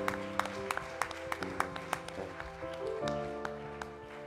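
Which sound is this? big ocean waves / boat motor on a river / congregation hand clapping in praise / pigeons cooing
congregation hand clapping in praise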